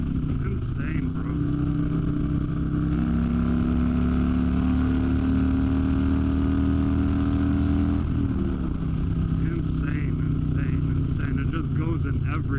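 Motorcycle engine revving and pulling hard through its gears, a steady mid-pitched drone rising in pitch, dropping at a shift near the middle, then climbing again, with wind noise and some talk over it.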